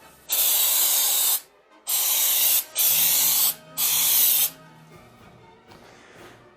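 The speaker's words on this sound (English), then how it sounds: "spray where you want it." An aerosol can of spray adhesive hisses in four close, loud bursts of about a second each, with quiet pauses between and a faint trailing hiss at the end.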